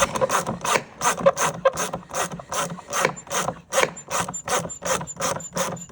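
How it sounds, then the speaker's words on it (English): A hand ratchet snugging down a filter, giving a steady run of loud, close clicking strokes with a rasping mechanical edge, about two per second, with no talking. "I'm just gonna ratchet it on until it gets good and snug"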